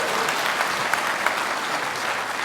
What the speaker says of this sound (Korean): 그래서 박수 한번 치셔야 되겠습니다.